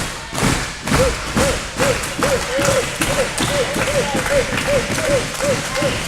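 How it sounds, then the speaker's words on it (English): A wrestling crowd claps in unison, a steady rhythmic beat of loud hand claps with loose cheering throughout, heard from within the audience. "Crowd getting behind the champion."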